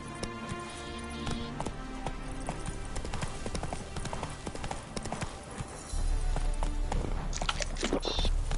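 Horse Roach's hooves clip-clop steadily in The Witcher 3, a busy run of close hoofbeats over layered game ambience and music that grows louder and heavier partway through.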